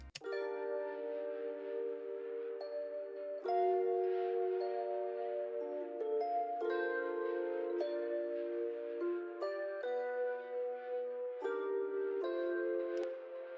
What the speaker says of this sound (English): Next up, I added this RHODES from my Champions Analog Lab Bank, and it's just copying the piano chords,